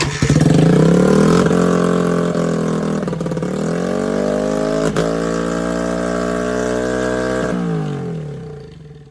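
A Honda XR75 motorcycle engine runs loud and close, starting with a brief high rev that settles into a steady, throbbing idle with a few small stumbles before it eases off at the end.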